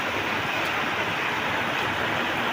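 Heavy rain pours down in a steady, dense hiss that stays loud and unbroken throughout, with no voices.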